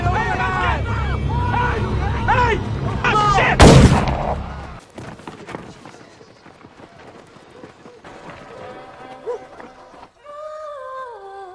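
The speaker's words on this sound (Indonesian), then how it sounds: "akhirnya beliau ditembak mati di tempat oleh penjaga" A single loud, sharp gunshot rings out as a prison guard shoots a fleeing inmate in a film scene, bursting through a busy soundtrack of voices and music that fades quieter afterward.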